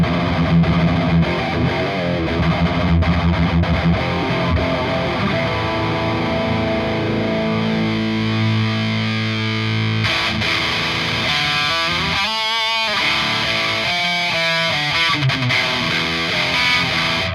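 A distorted metal guitar plays through an ENGL E860 rackhead amp with the treble at zero, giving a loud, dull, thick tone of sustained chords followed by chugging palm-muted riffs with short gaps.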